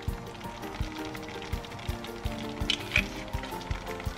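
Butter chicken gravy with cream and dried fenugreek simmers on a low flame, a steady close sizzle and bubbling with soft irregular pops and occasional stirring clatter.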